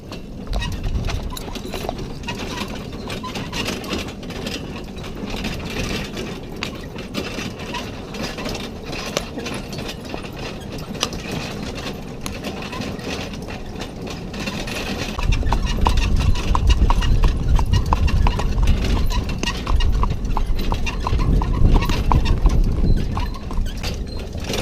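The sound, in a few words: horses' hooves clip-clopping during a horse ride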